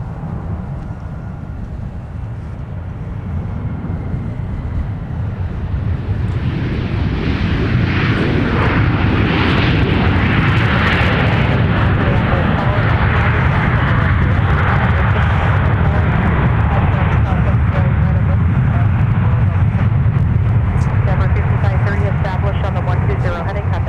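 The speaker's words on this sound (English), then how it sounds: "Take another look at our arrival that just touched down on the south parallel." An airliner touches down on the south parallel runway at MSP airport, with a deep, loud rumbling roar that builds and holds steady throughout.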